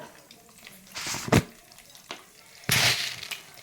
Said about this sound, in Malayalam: എണ്ണ ചൂടായി വന്നപ്പം അതിനകത്തേക്ക് ഒരു പിടി കടുക്